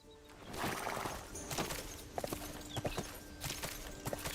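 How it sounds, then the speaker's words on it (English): A horse clip-clops across the ground in Sacred 2 Remaster, hoof strikes at first buried in a busy rushing game mix, then sharper and more distinct, steady and fairly close. "Get on my horsey."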